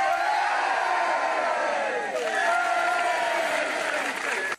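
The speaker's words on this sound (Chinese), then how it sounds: "另一头坐在草地上的500位大哥哥大姐姐宛如着魔似的跟着指令欢呼拍手。" A crowd of about 500 youths seated on a lawn at a youth camp cheers and claps together, a loud, dense, continuous roar of voices and applause that swells and holds steady before cutting off abruptly.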